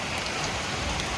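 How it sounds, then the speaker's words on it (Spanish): Steady rain pouring down outdoors during a storm along the Portuguese Central Camino, a dense continuous hiss with no voices. "Pues parece que está lloviendo"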